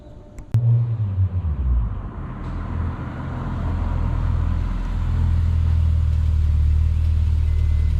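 A Honda S2000 engine turns over and starts, then settles into a steady low idle rumble that grows slightly louder and fuller as it keeps running.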